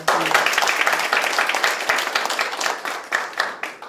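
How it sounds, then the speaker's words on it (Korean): Audience applause fills a policy forum hall during a Seoul debate on closing and redeveloping red-light districts: dense, steady clapping from a sizeable crowd that runs throughout and eases slightly toward the end. "박수 한번 보내주세요"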